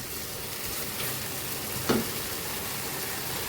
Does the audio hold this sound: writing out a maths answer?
no